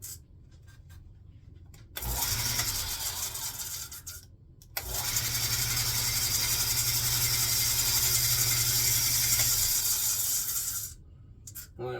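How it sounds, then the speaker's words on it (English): A steady mechanical whirring and rubbing drone from a belt-driven machine, running loud for several seconds with brief drop-offs between runs. "must be the belt's making weird noises"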